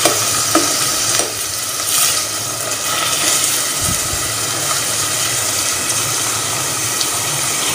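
Slices of bitter gourd (karela) fry in hot oil in a pan, giving a loud, continuous crackling sizzle broken by occasional stirring scrapes and clatters, with no voices.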